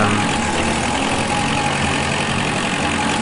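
A tractor engine runs steadily in the Agricultural Simulator Historical Farming video game, a loud, continuous mechanical drone with a dense rumbling texture and no breaks.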